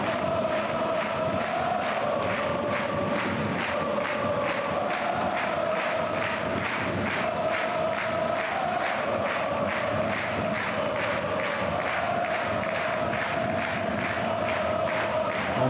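A football stadium crowd at a third-division match cheers and chants steadily, a dense roar with a regular rhythmic pulse of clapping or drumming running the whole way, loud and continuous.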